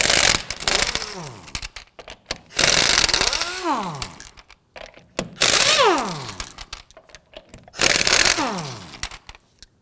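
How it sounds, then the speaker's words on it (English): A socket wrench with a 19mm socket works the lug nuts loose on the rear wheel of a 2008-2011 Ford Focus, giving loud repeated bursts of ratcheting and whirring with rising tonal sweeps, separated by short pauses. "we're going to use our 19mm socket to loosen and remove the lug nuts"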